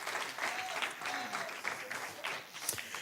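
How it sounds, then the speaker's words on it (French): A small audience applauds at a talk on rest. Light, scattered clapping continues for a few seconds at a modest level, with faint voices mixed in. "On peut encore l'applaudir"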